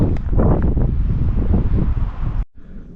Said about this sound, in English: Ooh, that wind's coming round.